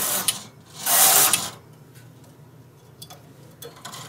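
Knitting machine carriage pushed across the needle bed to knit rows of a baby bootie, giving a loud mechanical ratcheting sweep followed by quieter clicks and ticks.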